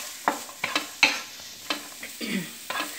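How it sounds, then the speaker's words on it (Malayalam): Chopped onion and capsicum being sautéed in a pan, with a few distinct stirring scrapes and soft sizzling bursts spread over a few seconds, fairly close and with no talk. "വഴറ്റി കൊടുക്കുക."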